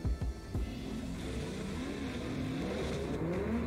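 Drift cars, a Toyota GT86 and a Nissan GTR, rev hard with rising and falling engine pitch, a sustained loud roar with tire noise and no talk.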